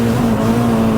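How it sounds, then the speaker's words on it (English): A built Toyota Glanza with a straight exhaust drones loudly at high, steady revs, a close, harsh, continuous engine note with no voices. "Sounds incredible as well, doesn't it? Yeah, straight exhaust."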